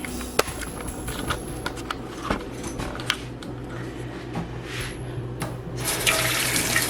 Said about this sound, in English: So now we are going to be rinsing the eggs off.